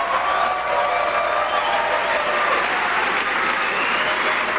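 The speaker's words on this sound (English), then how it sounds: "you all deserve the applause" Steady applause from a crowd at a political rally in the Minneapolis Convention Center fills the whole stretch, dense and even without letup.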